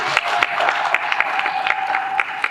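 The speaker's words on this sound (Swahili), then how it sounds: "Mpeni makofi yake mengi mengi." Audience applause at a Dodoma regional training event for traders, a steady dense wash of clapping with sharper individual claps throughout, moderately loud and continuous with no talk over it.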